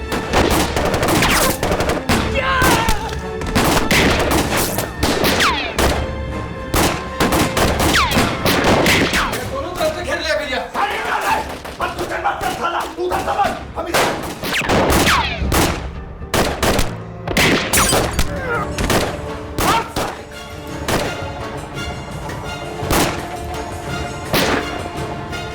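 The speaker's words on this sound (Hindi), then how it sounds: "भैया भैया बचना नहीं चाहिए। फायरिंग कर," Gunfire fills a Bhojpuri drama serial scene: dense, loud volleys of sharp shots and bursts crack almost without pause, mixed with crashes and dramatic effects.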